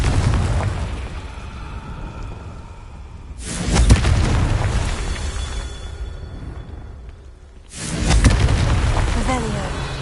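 Loud booming blasts from the Confringo fire spell in Hogwarts Legacy, two heavy explosions a few seconds apart, each rumbling broadly before fading into a dense, noisy game background.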